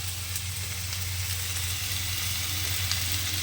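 Soybean pieces sizzle and fry steadily in a hot pan, giving a continuous hiss with faint crackles throughout and no voices.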